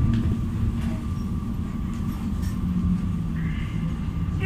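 Steady low rumble of a moving train heading on toward Lübeck-Travemünde-Strand, a continuous close drone with faint rattles and no speech over it.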